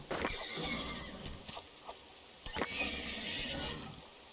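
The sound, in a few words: horse whinnying in video game Dawn of Man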